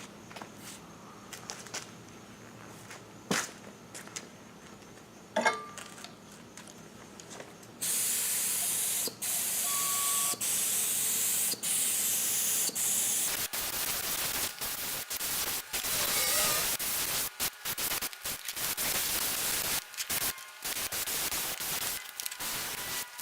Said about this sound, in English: So I'm just going to spray another coat.